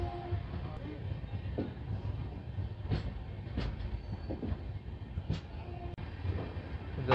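A WDG4G diesel locomotive from the Roza shed stands at Rampur Junction, its low steady engine rumble running throughout, with a few faint clanks and rail clicks on top.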